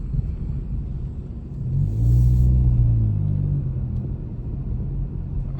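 A turbocharged Mk7 car engine rumbles as the car turns around on a neighborhood street, swelling into a louder, deeper surge for about a second before settling back to a steady idle-like drone.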